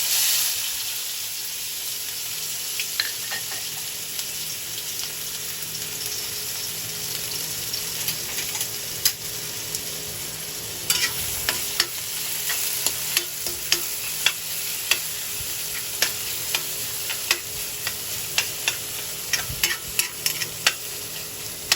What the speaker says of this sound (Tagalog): Gigisa na natin yung sibuyas at bawang.